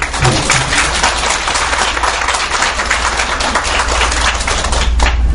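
Audience of teachers and parents applauding at a school lecture in a hall, a dense, steady wash of many hands clapping close and loud throughout, with no talk over it.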